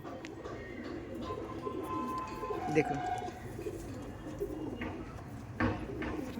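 Andhra Madrasi pigeons coo softly in a loft, a steady low murmur with a few clearer calls, heard beneath someone talking throughout.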